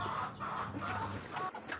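Village chickens cluck softly while being fed rice, a few short repeated clucks in uneven rhythm, faint and fairly close, with no voices.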